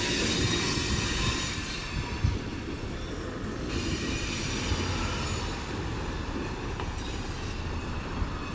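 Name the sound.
Kiamichi Railroad train moving, wheels squealing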